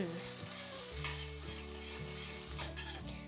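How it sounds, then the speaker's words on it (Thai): Sea bass sauce stir-fried in a hot pan gives a steady, close sizzle, with a spatula scraping and stirring in uneven strokes throughout. "ใส่น้ำซอสที่เราปรุงไว้ลงไปได้เลยค่ะ ผัดให้เข้ากัน"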